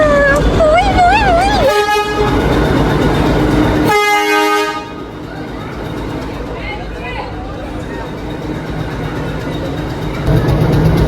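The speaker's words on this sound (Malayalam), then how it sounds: "ബിക്കോസ് ഫസ്റ്റ് ടൈം തന്നെ ഊട്ടി ട്രെയിനിൽ കയറാൻ പറ്റുന്നത്" The Ooty toy train sounds two loud, sustained horn blasts close by, the second cutting off sharply, over running engine and rail noise, with voices talking early on.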